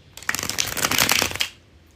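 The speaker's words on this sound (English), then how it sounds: "Here it is, the bridge shuffle." A deck of playing cards riffled in a bridge shuffle, a quick rapid flutter of cards lasting about a second and a half, close and clear with no talk.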